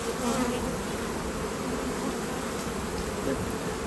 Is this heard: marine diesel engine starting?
no